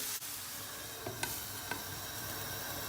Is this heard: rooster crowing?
no